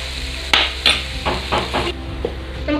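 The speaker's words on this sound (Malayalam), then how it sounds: "കക്കയിറച്ചി നമുക്ക് ഇട്ടൊന്ന് ഫ്രൈ ചെയ്തെടുക്കാം." Clam meat fries in a pan, with a soft steady sizzle broken by several sharp scraping stirs and clinks spaced through the moment.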